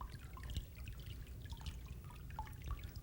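Water trickles and drips steadily from wet paper pulp draining through a papermaking mould, a soft continuous dribble with small droplet splashes, close and fairly quiet.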